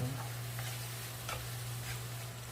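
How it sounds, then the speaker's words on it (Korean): Pork stir-fried in a wok for black-bean-sauce noodles, a soft steady sizzle with light scraping stirs, close and low under a constant hum, no talking. "노릇노릇하게 익을 정도로 한 4분에서 5분 정도 볶아주시는 겁니다"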